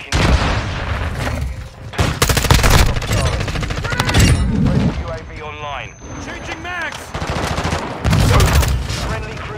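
Dense automatic-rifle fire and booms from a Modern Warfare 2 firefight with an M4 assault rifle, loud and continuous in heavy bursts, with voices calling out over the shooting.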